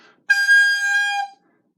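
A recorder note blown too hard comes out as a single loud, bright, harsh tone lasting about a second, alone in silence.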